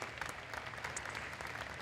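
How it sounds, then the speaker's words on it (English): Audience applause fills the room at a varsity awards banquet, a steady dense wash of clapping hands throughout, moderately distant and even in level with no talking over it. "we should give them a huge round of applause"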